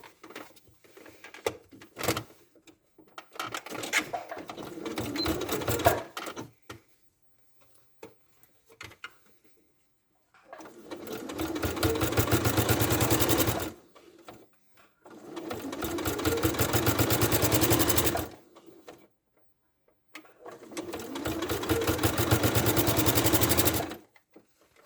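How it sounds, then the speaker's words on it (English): A sewing machine stitches the dart of a fabric toy ladybird: a few slow, hesitant stitches come first, then three steady, fast bursts of a few seconds each, separated by short pauses. "I'm going to sew from here up and finish at the top of the dart."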